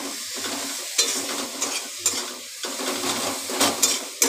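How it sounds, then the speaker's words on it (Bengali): Egg curry with green chilli paste frying in a pan while being stirred, a steady sizzle broken by irregular scraping and clinking of a utensil against the pan, close and fairly loud, no talk. "এবার একটু নেড়ে নেব।"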